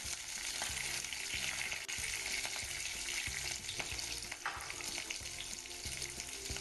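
Spinach sautéing in a hot pan with thinly sliced garlic, a steady loud sizzle and crackle with occasional stirring scrapes throughout.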